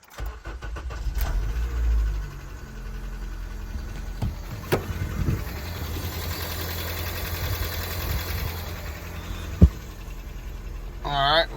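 A car's engine runs steadily with a low, continuous rumble, its owner having bought the car after it rear-ended him. Occasional clicks and clunks break through, and a person speaks briefly near the start.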